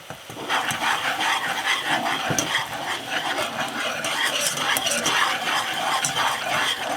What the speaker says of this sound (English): I'm just going to give that a slow whisk as I add the flour.